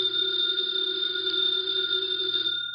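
A house telephone's bell rings loud and close in one sustained burst, cutting off just before the end, with no voices present.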